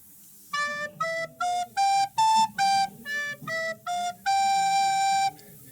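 A recorder plays a short Christmas melody line starting on a low D, about a dozen clear detached notes stepping up and back down, ending on one longer held note, alone and close.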